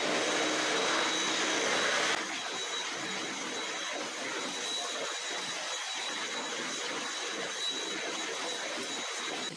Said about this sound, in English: So I'm gonna vacuum and then mop quickly